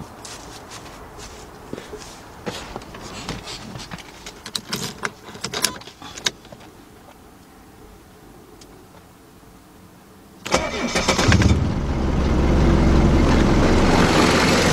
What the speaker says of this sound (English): let's go over here and start the car up